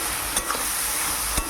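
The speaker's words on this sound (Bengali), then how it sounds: "এবার এটা ভালো করে আমি নাড়তে থাকবো আর একটু এর সাথে কষাতে থাকবো।" Boiled kachki shutki (dried fish) being stirred and fried with Malabar spinach in a pan, a steady close sizzle with two sharp scrapes of the spoon against the pan.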